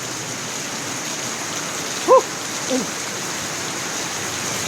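Steady rain hiss fills the whole stretch, with a couple of brief faint calls rising above it midway.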